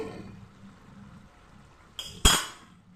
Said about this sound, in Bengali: কিছুটা সময় নাড়াচাড়া করার পর আবার দুই মিনিটের জন্য আমি ঢাকনাটা দিয়ে দিচ্ছি